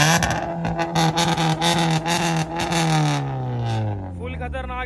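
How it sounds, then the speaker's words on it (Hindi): A Maruti Baleno with a loud straight-pipe Remus exhaust roars, rising in a rev, then its pitch sweeps down as the engine settles, close and harsh, with someone talking over it. "भाई एक खतरनाक सी एग्जॉस्ट वाली बलिनो और गाड़ी है"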